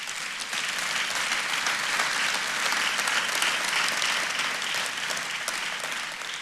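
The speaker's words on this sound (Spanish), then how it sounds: "un aplauso" Audience applause after a speaker's line about friendship at a church or sermon-style talk, steady dense clapping from a crowd, fairly loud and sustained throughout with no voices over it.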